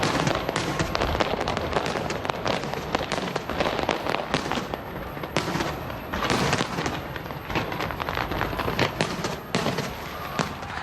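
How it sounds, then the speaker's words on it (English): New Year fireworks burst over Auckland's Sky Tower in a continuous barrage of crackles and booms, dense and loud, with rapid overlapping pops and occasional deeper thuds and no voices. "Capital Auckland hosted a fireworks show at the famous Sky Tower."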